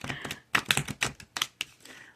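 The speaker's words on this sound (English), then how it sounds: "So we might be here for a minute with me shuffling" A deck of cards being shuffled by hand, crisp riffling bursts and clicks in quick uneven clusters, close and fairly loud with no talking.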